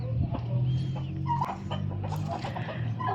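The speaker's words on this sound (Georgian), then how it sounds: "წიწილები არ გეგონოთ ქათმები არიან" Small chickens clucking close by, a busy run of short clucks and peeps with scratchy movement noise, continuing throughout with no clear speech.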